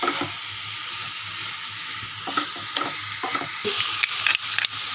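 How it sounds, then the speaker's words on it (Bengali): Fried cauliflower and potatoes are stirred into a simmering spice base in a pan, with a loud, continuous close sizzle and brisk scraping spatula strokes toward the end, no speech. "এবার আমি এর মধ্যে ভাজা ফুলকপিগুলো দিলাম আর ভাজা আলু দিলাম, দিয়ে এটাও কিছুক্ষণ"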